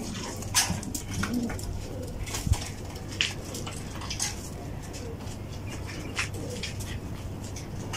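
Pigeons coo in a loft, soft low repeated coos under scattered flutters, clicks and light clatter, moderately close against a faint steady hum.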